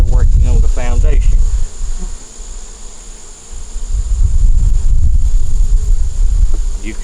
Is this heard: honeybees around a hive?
yes